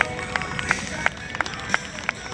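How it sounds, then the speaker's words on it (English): At an air show with warbird and classic aircraft, a crowd claps in a light, steady patter of individual claps, fairly thin and close. "Another round of applause for him, ladies and gentlemen."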